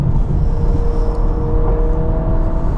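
A 2026 Honda Prelude hybrid drives along with a steady low road and engine rumble and a faint whining tone, under simulated shifting.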